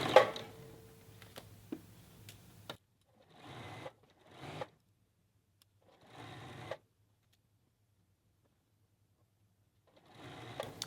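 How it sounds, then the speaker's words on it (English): A sewing machine stitches a seam in stretch T-shirt fabric in several separate bursts of whirring, each a second or two long, with quiet gaps between them. "So just give it a light tug as the machine pulls it through for stitching."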